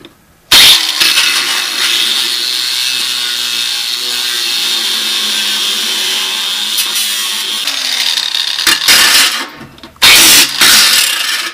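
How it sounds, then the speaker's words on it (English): A hole saw and an angle grinder cut through the sheet-metal fender well of a Toyota, producing loud, sustained grinding and whining, with abrupt stops and restarts and several harsh bursts near the end. "take a hole saw, put it in there, we're going to trim out that fender well"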